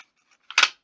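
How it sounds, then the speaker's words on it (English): A magnetic hand rest on a computer keyboard snaps back into place with one quick, sharp clack, heard close and alone after a faint tick. "that's the sound of, like, me taking off the, like, hand rest on my keyboard."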